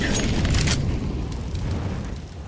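An incendiary grenade bursts in Counter-Strike, a loud fiery whoosh and boom at the start that settles into a roaring, crackling rumble of flames.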